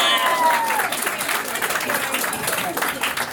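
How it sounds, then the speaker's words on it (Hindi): A comedy show audience claps and cheers for a couple on stage, a loud, dense burst of applause mixed with crowd noise and voices. "ताली मारो दोनों के लिए।"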